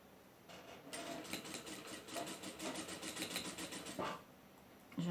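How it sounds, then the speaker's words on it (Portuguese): Electric sewing machine stitching fabric for a child's cat-shaped purse, a steady close whirring hum of the running needle for several seconds, alone without talk. "E continua costurando."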